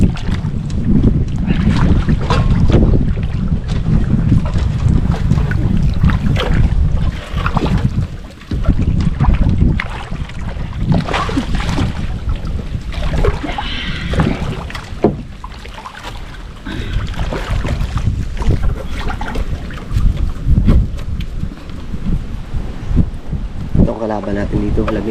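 Strong wind buffets the microphone over a fishing boat on the open sea, a continuous loud roar with voices talking intermittently underneath.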